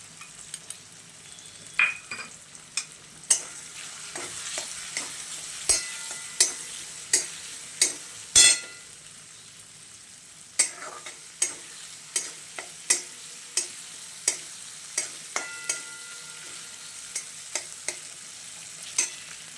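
Chopped onion sautéing quietly in a pan while a ragi (nachni) undes dish is made, a faint, low sizzle broken by a regular series of sharp spatula taps and clicks against the pan.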